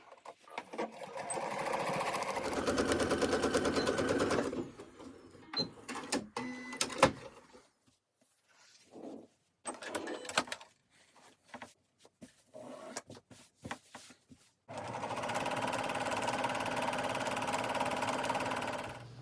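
A sewing machine stitches a quarter-inch seam on a quilt-as-you-go Valentine's table runner, running steadily for several seconds, stopping amid handling noises, then running again in a second sustained burst.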